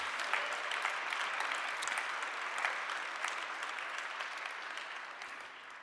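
Sustained applause from a large crowd, steady and dense clapping throughout with no break.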